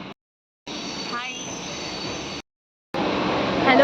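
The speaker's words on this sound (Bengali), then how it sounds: "তো আমরা এবার ট্রেনে বসে গেছি।" Passenger train running on rails, heard from inside a carriage on a trip to Namkhana: a steady close rumble and rattle in short bursts broken by abrupt silent gaps, with faint squeal-like tones near the end.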